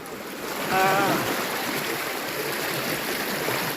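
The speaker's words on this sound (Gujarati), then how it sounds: "ત્રણ ફૂટથી પણ વધારે આ બજારમાં પાણી છે" Floodwater more than three feet deep rushes through a village market street, a steady, close, broadband roar of flowing water that continues without a break.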